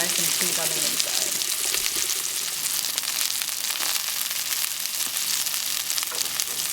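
Beef steaks sear in a hot pan over medium heat, giving a loud, close, continuous sizzle with faint crackle and no talk.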